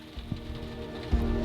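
Rain falling outdoors, a soft steady patter on surfaces with a couple of heavier low thumps, faint and continuous.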